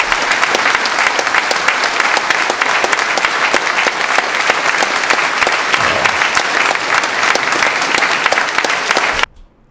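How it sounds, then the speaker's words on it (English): A large audience gives a standing ovation after Amira Willighagen's Ave Maria, with dense, loud, continuous clapping that fills the space and stops suddenly at the end. "She deserves stand ovation."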